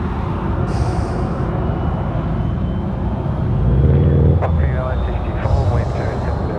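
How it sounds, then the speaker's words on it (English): Velocity Boeing 737-800 jet taxiing past at Sydney Airport, a steady broad engine roar and rumble that swells slightly midway, with a faint whine on top. "Velocity off to Melbourne. It's just making its way past the camera now. Yep. 737-800."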